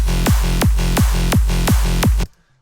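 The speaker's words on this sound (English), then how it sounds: "Then there's modern sidechain MIDI bass." Modern sidechain MIDI bass pumping in steady rhythm, each low note ducking under a punchy kick about every third of a second, loud and close, stopping abruptly at the end.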